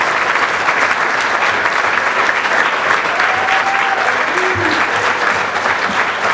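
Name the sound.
audience applause at a banquet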